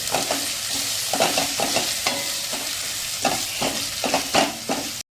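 Potato pieces sauté in hot oil for Maharashtrian masale bhat, giving a steady sizzle broken by repeated scraping stirs of a spoon against the pan, close and moderately loud.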